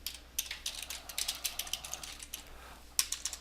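Typing on a computer keyboard, a quiet, irregular run of light key clicks in close succession, with a short pause before a final cluster of taps.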